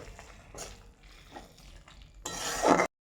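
Chicken stirred with soy sauce in a pan, several soft scraping strokes and light clinks, ending in a louder sizzling scrape just before the sound cuts off.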